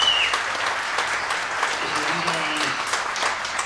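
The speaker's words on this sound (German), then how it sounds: "Hörst du deinen Applaus?" Applause rises from the crowd at the Wunderlich Anfahrt 2022 motorcycle gathering for the winner of a dream bike, a steady wash of clapping with a brief voice partway through.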